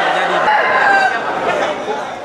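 A rooster crows at a fighting cock contest with about 25 teams, its drawn-out call rising over a constant crowd murmur and a voice talking throughout.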